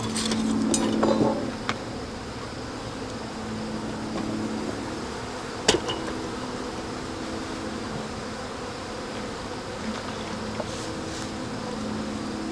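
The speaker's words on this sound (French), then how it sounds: "je vais poursuivre avec le transfert du deuxième essaim" A swarm of honeybees being moved into a hive in September, a continuous faint buzzing hum throughout with a few knocks and clinks of hive equipment early on and one sharp tap midway.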